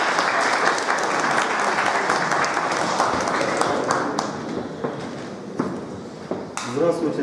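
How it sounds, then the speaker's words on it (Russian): An audience applauds at a veterans' commemorative meeting as a former DNR armed forces serviceman is introduced: dense, steady clapping for about seven seconds, fairly loud and even, thinning slightly near the end. "Просим аплодисменты."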